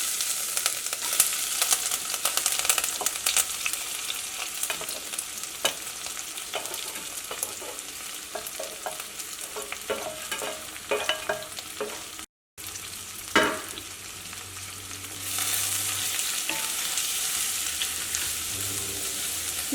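Chopped onion, ginger, garlic, green chili and curry leaves frying and being stirred in hot oil for a tomato fry curry, giving a steady loud sizzle with clattering stirs, a short break, then a stronger hiss.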